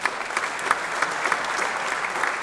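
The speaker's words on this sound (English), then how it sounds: "Give her a round of applause." Applause from an audience at a small business recognition awards ceremony, steady and moderately loud, with dense clapping throughout the short stretch.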